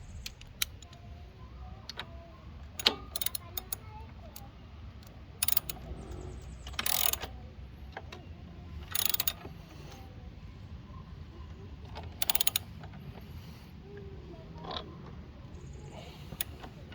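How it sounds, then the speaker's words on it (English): Bolts being tightened during installation of a Talaria Sting power pedal kit: a faint run of clicking ratchet and mechanical ticks with several sharper bursts, close by, with no talking. "Now we tighten."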